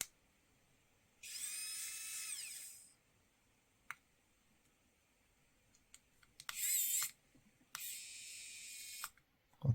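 A KAIWEETS ES20 electric screwdriver whirs in short bursts: one run of about two seconds, then two briefer spins later. Scattered faint clicks fill the gaps between runs, and nobody speaks.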